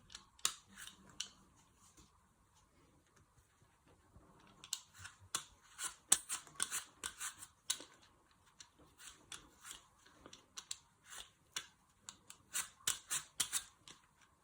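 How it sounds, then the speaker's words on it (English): An apple is peeled by hand with a peeler, producing quiet, crisp scraping strokes in irregular bursts with short pauses between them, close up and with no voices. "using your peeler. You peel your apple."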